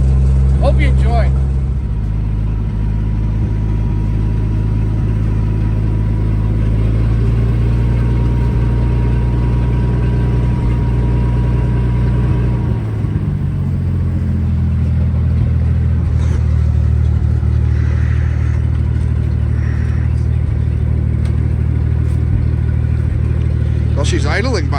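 An old fire engine idles on its own, its engine rumbling deep, loud and steady for the whole stretch, with a slight shift in pitch midway.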